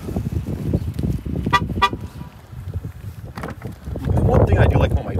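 Two short toots from the horn of a 2013 Lincoln MKZ as the trunk is shut without the key fob, heard outdoors amid wind noise with someone talking.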